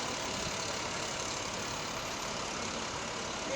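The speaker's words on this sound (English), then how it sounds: "There's the pumper truck." A fire department pumper truck idles steadily at a Memorial Day parade in Essex, a continuous low engine rumble with no break over the few seconds.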